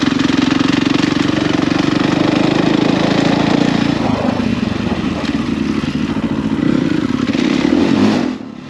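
A Husqvarna FE450 dirt bike engine runs loud and close on a ride through wide tracks in a military training area, holding a steady throttle with slight surges before cutting off abruptly at the end.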